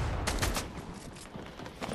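Sprayer firing in Fortnite, a quick run of sharp, evenly spaced shots in rapid succession, close and loud, fading briefly before a final heavier burst at the end.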